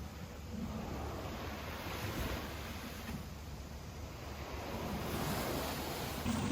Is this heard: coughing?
no